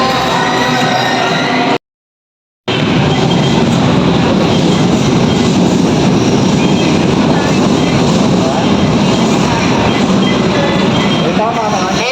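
A Manila MRT train rumbles loudly and continuously with a broad roaring din, briefly cut off near the start, then resuming steady to the end.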